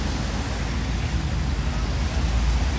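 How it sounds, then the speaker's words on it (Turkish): Marmaracık minibuses and other traffic rumble along a Tekirdağ street, giving a steady low engine drone that swells slightly toward the end, with no clear voices. "Marmaracık otobüslerini şimdi Tekirdağ Büyükşehir Belediyesi Başkanlığı'nın önüne bırakmaya gidiyorlar"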